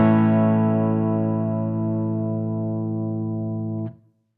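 A single distorted electric guitar chord played through a Fractal amp processor with the reverb block bypassed, ringing steadily and evenly for several seconds before being cut off sharply, leaving silence.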